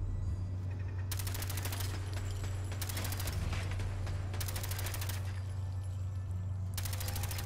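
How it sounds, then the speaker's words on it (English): A turret in the video game Fallout 4 fires long rapid bursts of automatic gunfire, loud and close, repeating in several sustained volleys over a constant low engine-like drone. "Is that turret trying to shoot me?"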